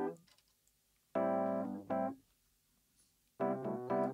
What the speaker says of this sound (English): that is the Rhodes on the verse